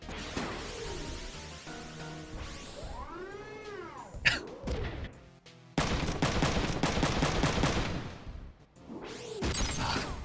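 Front Mission 3 battle sequence with bursts of machine gun fire among crashes, whooshing effects and impacts, loud game sound effects with pauses between volleys.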